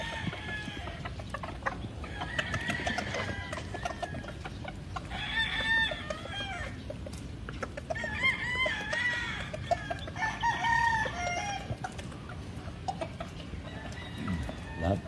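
Roosters and stags on a farm in the Philippines crow repeatedly at feeding time, several long strident calls overlapping with steady clucking from many birds, some near and some farther off, over a busy background, with no one talking.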